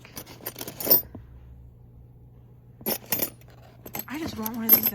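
Metal skeleton keys and old furniture keys jangle and clink in bursts, brief clusters of bright rattling separated by pauses, with a voice briefly exclaiming near the end.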